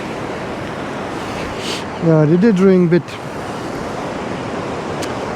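Waves break on the shore while fishing at St Combs on the Aberdeenshire coast, a steady broad wash of surf mixed with wind, and a person speaks briefly midway.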